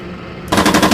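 Sudden burst of machine-gun fire in the Steel Beasts tank simulator, a loud rapid rattle of evenly spaced shots cutting in after a half-second of quiet hum.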